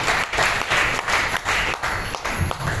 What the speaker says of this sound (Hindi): तो इनके लिए भी एक जोरदार तालियां